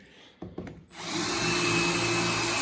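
A small drill bit bores a pilot hole into MDF. A couple of short clicks come first, then the drill whirs steadily and loudly up close.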